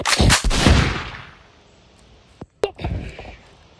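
Loud gunshots go off in a game-like shootout, with a burst of booming blasts up front that decays into rumble, then another sharp crack and shots a moment later.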